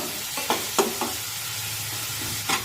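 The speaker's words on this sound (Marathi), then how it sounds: "कांदा भाजत असताना गॅसची फ्लेम मध्यम केली तरीही चालेल" Onion frying in a pan over medium flame sizzles steadily while a spoon scrapes and stirs it in several quick, close strokes, loud and free of talk.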